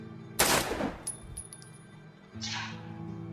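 A single sharp gunshot fires in the zombie video game Don't Escape 2, a loud broadband blast followed by brief metallic ringing, then a softer noisy burst a couple of seconds later.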